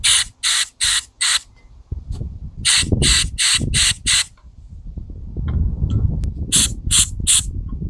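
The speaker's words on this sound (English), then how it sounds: "And we'll spray up the emulsion tube." Carburetor cleaner is sprayed up the emulsion tube of a snowblower carburetor in loud, close, rhythmic hissing bursts, four at the start, five mid-way and three at the end, over low handling noise.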